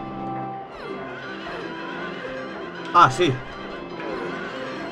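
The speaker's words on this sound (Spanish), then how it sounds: "Hostia, grita el caballo." A horse neighs in the Lakeside Amusement Park carousel boss fight of the video game Silent Hill 3: a sharp double whinny bursts briefly over game music while someone speaks briefly.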